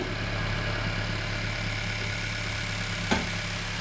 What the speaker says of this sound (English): The engine just kind of sounds like a bug.